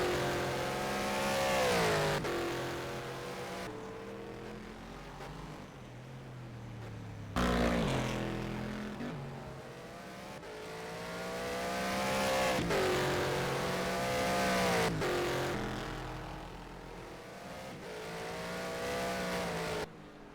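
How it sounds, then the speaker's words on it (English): A virtual race car in an endurance event at Bahrain accelerates hard out of corners, engine note climbing through repeated upshifts in steady sweeps, loud and close with no talk. "Accelerating out of the first two corners then."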